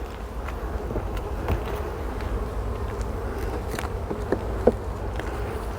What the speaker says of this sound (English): I can see these right here have got bees on it